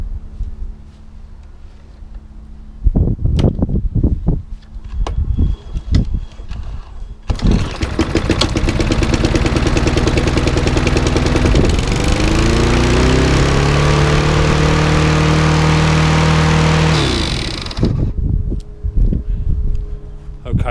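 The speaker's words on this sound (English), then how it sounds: "let's see if this lawnmower runs" A petrol Mountfield HP474 lawn mower pulls into life after a few tugs, then roars loudly and steadily, over-revving with its pitch rising before cutting off near the end, with wind in the background.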